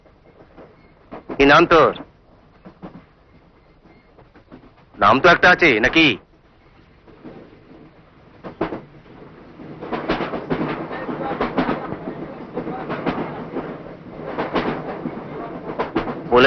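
A moving train's interior rumbles with rail-car clatter, including two short loud bursts, while people talk over it.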